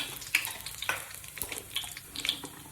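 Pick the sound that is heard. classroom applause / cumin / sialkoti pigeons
cumin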